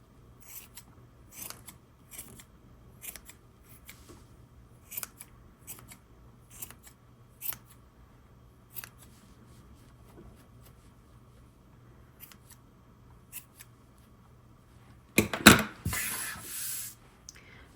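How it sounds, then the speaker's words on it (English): Scissors trim crochet yarn on a penguin hat, a series of soft, close snips at an even pace, then a brief rustling scuffle near the end, with no talk. "if you want to give it a little trim to round it up a little bit"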